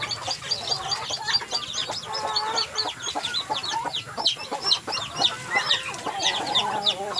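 Fowl cluck and chirp busily in a rural farmyard at feeding time, with a turkey among them, giving a dense, continuous chatter of short calls.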